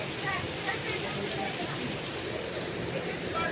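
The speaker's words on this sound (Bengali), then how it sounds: "বৃষ্টির চোটে আমাদের দোকানের সামনে পুরো বন্যা বয়ে গেছে" Heavy monsoon rain in Puri, India, pours down steadily, flooding the street outside a shop, a dense unbroken hiss of water hitting surfaces all around, loud and continuous throughout.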